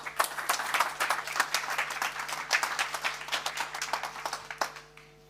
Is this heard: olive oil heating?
no